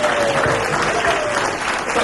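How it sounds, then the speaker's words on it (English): Steady audience applause for the lighting engineers at a murder mystery stage show, a dense continuous clapping that stays even and loud for the whole stretch. "Nice round of applause for our lighting engineers in the back."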